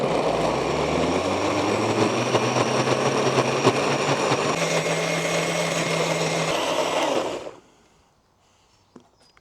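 A blender blitzes salsa with margarita salt and rapeseed oil, a loud, steady high whir for about seven seconds that then cuts off abruptly into near silence.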